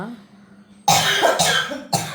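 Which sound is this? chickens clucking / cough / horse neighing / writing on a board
cough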